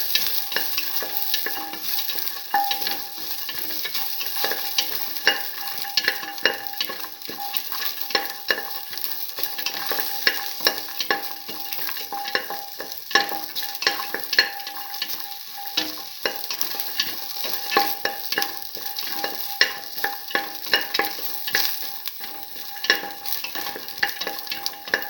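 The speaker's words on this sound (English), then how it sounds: "Keep on stirring." Garlic mung bean tamarind stew mixture stirred in a hot pan: a steady, close sizzle with constant scraping and spatula clicks throughout, no talking.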